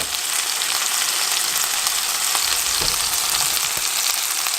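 Ground beef fries in a pan with a steady, loud, close sizzle and crackle, a faint scrape of stirring near the middle, and no talking.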